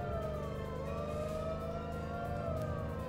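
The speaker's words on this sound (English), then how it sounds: "Thankfully, the sirens are working." Wailing police car siren from The Godfather video game on PS2, sweeping up and down continuously and loudly over a low engine-like rumble, with no voices.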